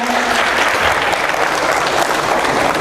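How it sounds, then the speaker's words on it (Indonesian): Loud, dense applause from a crowd at a Christmas celebration of the Peradi Medan lawyers' association, a continuous wash of clapping at full strength throughout. "kita beri tepuk tangan"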